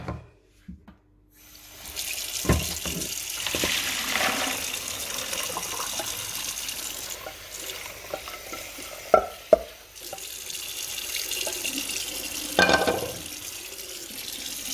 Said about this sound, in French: je vais arrêter la cuisson et le mettre dans une passoire